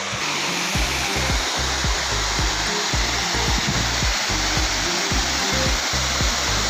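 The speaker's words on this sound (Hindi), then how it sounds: "ये देखिए मोनहेड वाटरफॉल" Honhed waterfall near Keshkal, heard as a steady, loud, broadband roar of falling water with low rumbling gusts, close by and with no voices.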